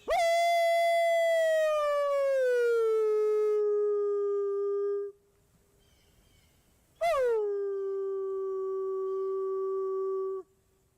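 A person's voice imitates a wolf howl in two long sustained calls: a smooth falling tone held for several seconds, a pause, then a second rising-and-falling howl, loud and close with no other sounds.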